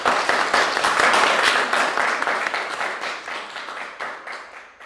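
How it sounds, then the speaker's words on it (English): Audience applause for a guest on a talk show, a burst of many hands clapping that starts strong and gradually fades over several seconds, fairly close with no voices. "Let's give her a round of applause."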